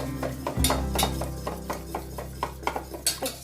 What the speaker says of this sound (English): Whisk is always a proper medium to stir it and mix it well.